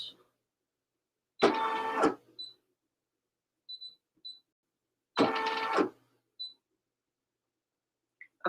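A home embroidery machine stitches a placement outline for a bunny's head in two short, dense bursts, each under a second long. Quiet pauses separate the bursts, with small faint clicks between them.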